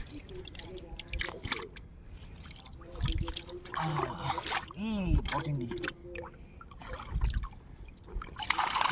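Freshly caught shrimp are shaken in river water at night in the Sundarbans, making sloshing and trickling splashes in uneven bursts while people talk throughout.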